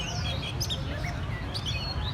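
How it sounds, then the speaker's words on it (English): Caged birds at a bird club in Saigon chirp and whistle in short, bright calls over a dense, steady background hum of outdoor park noise. "they just enjoy listening to the birds sing while it's not too hot yet"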